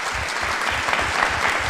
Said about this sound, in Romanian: trebuie să îi rugăm pe cei prezenți aici să ne ajute și cu aplauze